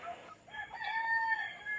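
A gamefowl rooster, one of several roughly two-year-old birds, gives a single drawn-out crow of about a second and a half, heard close and alone over faint farmyard background.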